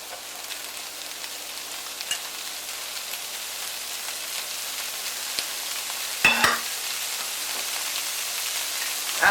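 Mince browning with korma curry paste in a pan, a steady dense sizzle with soft crackle and a few louder scraping stirs, close and continuous.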